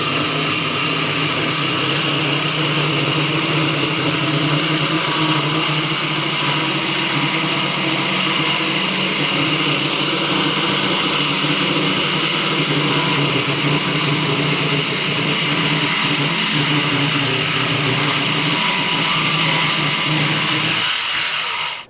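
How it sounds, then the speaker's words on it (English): A small cordless saw trims the overly wide end of a spalted sycamore bar top, a steady high-pitched motor whine running loud and continuous for the whole stretch before cutting off at the end. "I'm just going to use a little cordless saw, and we're going to trim this off."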